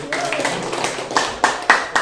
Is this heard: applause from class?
yes